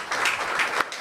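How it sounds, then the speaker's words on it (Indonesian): A short burst of applause for a human rights award winner at a discussion event, a dense patter of clapping from an audience, moderately loud and continuous through the whole second. "tepuk tangan untuk Mas Dawam"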